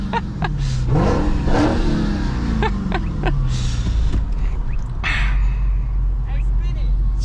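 A Dodge Charger Hellcat revs hard from the driver's seat in highway traffic. The loud engine roar swells and falls, and voices talk over it nearby.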